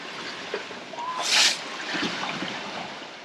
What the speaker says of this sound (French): on a la chance d'avoir, oui, certes, de la mer, mais en plus un vent qui vient dans le bon sens et qui nous pousse bien